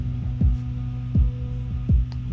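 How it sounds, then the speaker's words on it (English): A deep, thudding heartbeat-like drum pulse repeats three times at an even, slow pace over a low steady hum. "I started to program in this like heartbeat drum beat"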